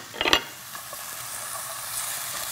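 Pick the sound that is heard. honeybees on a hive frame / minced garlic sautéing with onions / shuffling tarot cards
minced garlic sautéing with onions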